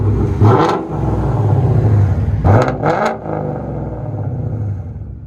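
A 2019 Ford Mustang GT with a 5.0 V8 and Dynomax Race Bullets dual exhaust revs hard in loud, close bursts, with two main throttle blips. A throaty, rumbling idle fills the gaps between them.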